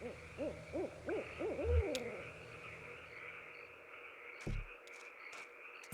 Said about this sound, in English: Where is that owl?